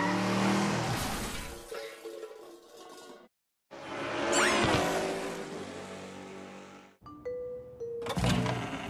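A car spins around in a fast handbrake J-turn during a driving-skills test, with engine noise and brief tire squeal heard under loud music and other show sounds.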